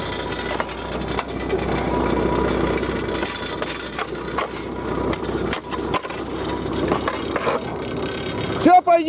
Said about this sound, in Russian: На первой скорости пашем, не торопясь.